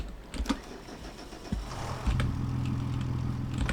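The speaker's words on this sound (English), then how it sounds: "Turn the tractor off." Tractor engine in Farming Simulator 25 idling with a steady low rumble that rises after a couple of brief thumps, running continuously near and alone.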